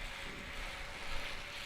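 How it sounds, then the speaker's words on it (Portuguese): A small robot's motor spinning clockwise in a steady, continuous mechanical whir, faint and even in level throughout with no voices. "Está girando o motor no sentido horário."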